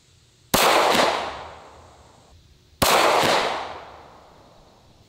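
Two loud pistol gunshots fired at a torso target 100 yards away, each a sharp crack followed by a long rolling echo that fades over about two seconds. A faint impact thump follows soon after each shot. No voices.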